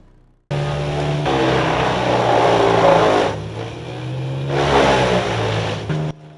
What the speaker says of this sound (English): a 600 horsepower wood chipper built for serious work